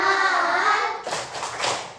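In a classroom, children's sustained chanting gives way to a short run of quick, close claps in the "tepuk 100" clap pattern.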